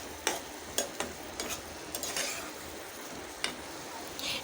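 Egg and potato stir-fried in a pan with a sprinkle of garam masala, a soft steady sizzle broken by a handful of sharp spatula scrapes and taps against the pan, close and clear with no talking.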